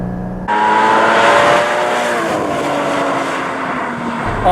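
A Porsche Cayman GT4 engine sounds loud and close while driving, its tone rising steadily as it revs under acceleration.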